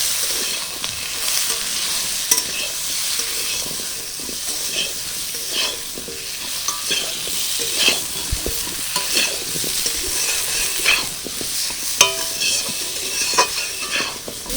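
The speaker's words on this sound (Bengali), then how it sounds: "হলুদ দিয়ে আমটা একটু কিছুক্ষণ ভেজে নিলাম দু তিন মিনিট মতো" Green mango pieces frying with turmeric powder and salt, loud steady sizzle with continuous stirring and scraping of a spoon against the pan, no voices.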